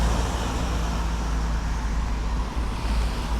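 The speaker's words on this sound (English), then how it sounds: "And a lot more cars as well." Steady road traffic on a mountain road in Snowdonia, a continuous broadband rumble of passing cars with no distinct pass-by peaks, fairly loud and close, with no voices.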